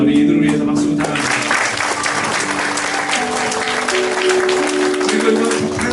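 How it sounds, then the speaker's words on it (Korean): A church congregation at a Christmas service applauds the musicians, a full and loud wash of clapping that swells after a sustained musical chord fades out and carries on steadily to the end. "자, 우리 이들을 위해서 박수 부탁합니다."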